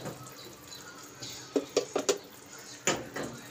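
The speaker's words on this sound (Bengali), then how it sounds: "একটু আলতো হাতে একটু নেড়ে দিই।" A wooden spoon gently stirs village-style small-fish curry in a metal cooking pot, giving a few soft scraping clinks and light knocks in a short cluster, fairly quiet and close.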